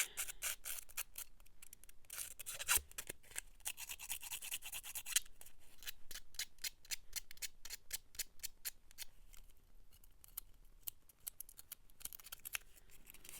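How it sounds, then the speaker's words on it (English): Close, rapid scraping strokes as the edge of a pair of scissors distresses paper for a handmade junk journal, continuing in a steady rhythm with no talking. "I use the edge of my scissors"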